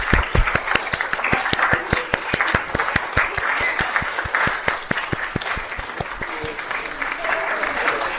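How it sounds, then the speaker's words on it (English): A church congregation applauds child actors and readers at an intergenerational service, a dense steady round of clapping from a crowd that carries on throughout with a faint voice underneath. "now I'd like to invite our actors to come forward for a round of applause"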